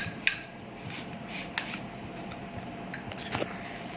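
Spoon stirring face pack ingredients, including gram flour, in a bowl, giving soft scrapes and a few light clinks against the dish, one sharper tap near the start, fairly close and quiet.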